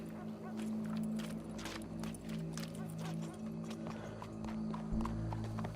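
Horse hooves clip-clop steadily on the ground in the Red Dead Redemption video game, moderately near, with a low engine-like hum and occasional voices in the background.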